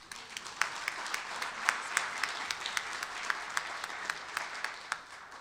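Steady applause from a Rotary meeting audience, a dense wash of clapping with a few sharper claps standing out, lasting several seconds without talk.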